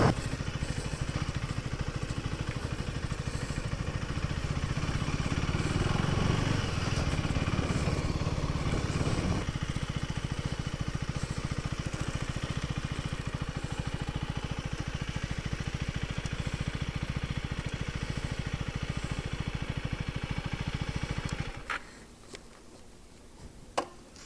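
KTM Duke 390 motorcycle engine running loud and close for about twenty seconds, a steady throbbing drone with a rougher surge midway, then cutting off abruptly into near silence with a couple of faint clicks.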